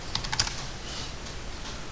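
Computer keyboard typing while entering AutoCAD commands, a quick run of a few sharp key clicks at the start, then quiet room tone.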